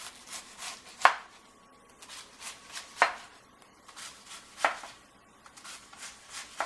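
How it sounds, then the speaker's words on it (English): A knife chops vegetables on a board, cutting them into thin, noodle-like shreds for a low-calorie meal. Crisp, close strokes come in a loose, uneven rhythm, with a few sharper chops standing out above the quieter cuts. "So I'm basically cutting it into shreds, shredding it into real thin strings, just like you would if you had pasta noodles."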